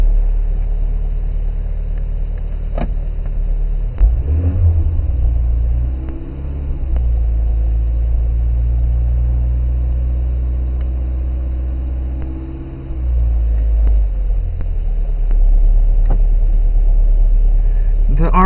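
A VW Golf III engine starts from cold on a freezing morning in Brașov, Romania. It turns over a few seconds in and then settles into a steady, close, low idle rumble with slight shifts in pitch.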